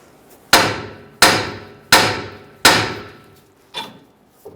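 Four sharp hammer blows struck at an even pace against a front suspension part on a 2011-2018 Ram 1500 truck, followed by two lighter taps, each ringing briefly and decaying, close and loud.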